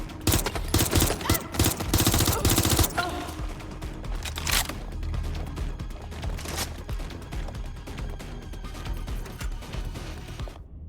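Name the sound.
gunfire in video game Watch Dogs Legion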